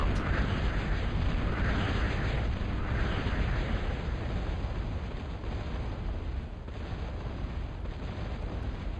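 A bombed Moho mass extractor blows up in a real-time strategy game, a loud, sustained rumbling blast that slowly fades but keeps roaring throughout with no speech.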